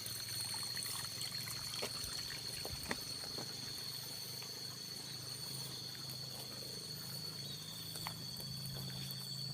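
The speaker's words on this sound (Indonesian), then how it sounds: "Lihat ada pancuran singgolontor begitu ya." Water pouring from a spout in a village setting, a faint steady trickling splash under light outdoor background noise, with a couple of brief knocks.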